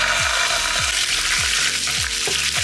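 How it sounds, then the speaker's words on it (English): Tomato purée fries in three tablespoons of oil with a loud, unbroken sizzle and spatter, punctuated by regular low thuds, and no one speaking. "we fry that for a few minutes"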